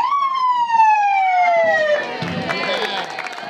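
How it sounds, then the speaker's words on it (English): A new fire engine's loud siren wails with a pitch falling smoothly during a dedication ceremony in Joshua Tree, then fades into clattering noise and a voice nearby. "the siren sounded"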